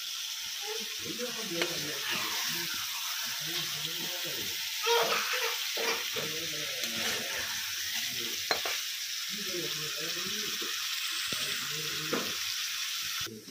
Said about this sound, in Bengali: এবারে কিন্তু জল ঢেলে দেবো।